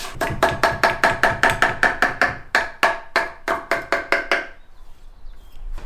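A knife chops fresh oregano on a cutting board in a quick, steady run of about twenty close, crisp strikes that stop near the end, with no talking.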